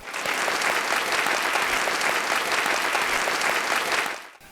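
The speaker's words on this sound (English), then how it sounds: "I think we deserve a round of applause" Loud, dense round of applause from a crowd, steady and sustained throughout, then cutting off abruptly near the end.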